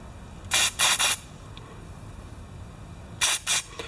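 Short bursts of carburetor cleaner sprayed through the carburetor of an older John Deere 14SE lawn mower: three quick hissing blasts, a pause, then two more, fairly close and loud.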